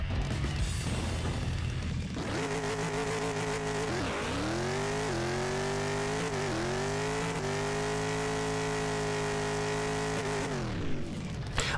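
A Pro Modified drag racing car makes a 257 mph pass, its engine roaring loud and close for about nine seconds, with the pitch climbing and stepping back down at each gear change before it cuts off.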